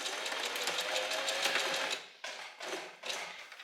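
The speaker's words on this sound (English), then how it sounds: "now we're just going to do some front and back stitching." Sewing machine running a forward-and-back stitch on stretchy elastic: a long continuous whir, then two shorter bursts after brief pauses, close and clear.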